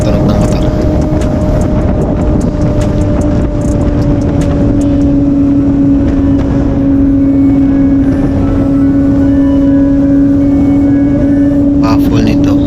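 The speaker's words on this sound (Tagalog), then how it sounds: "enjoy muna tayo ng tunog ng motor." Motorcycle engine idling steadily with its exhaust baffle removed, test-run after a cylinder head gasket replacement; a loud, constant low drone holds throughout with a faint rise near the end.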